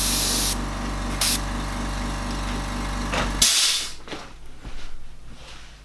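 An airbrush sprays a light mist of paint while a tiger is being painted. Close, loud bursts of hissing air come with brief breaks between them, then the spray cuts off, leaving faint handling noises.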